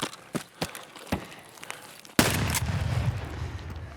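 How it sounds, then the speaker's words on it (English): Gunfire in the video game Escape from Tarkov: a few sharp, separated shots near the start, then a loud sustained burst of firing with heavy low rumble. "Someone's literally shooting at me."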